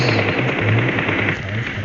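Rapid gunfire from PUBG play, a dense burst of automatic shots rattling continuously at steady loudness, with short repeated low thumps underneath.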